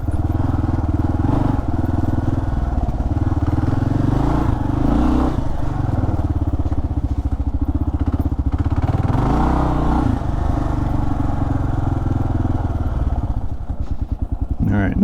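Kawasaki KLR650 dual-sport motorcycle ridden through an old swimming hole area, its engine a loud, steady close drone with slight revving swells throughout.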